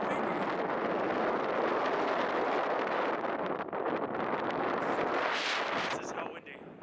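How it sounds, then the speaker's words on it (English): Strong wind roars steadily across a microphone outside a van parked in stormy, rainy weather, a dense continuous gust noise that stays loud before easing slightly near the end. "This is how windy."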